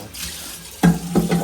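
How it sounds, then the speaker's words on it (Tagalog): Municipal tap water runs from a faucet in a home kitchen, a soft hiss at first, then louder splashing bursts as the stream strikes a sink or container, with no talk. "ang tubig namin dito ay galing sa Nawasa"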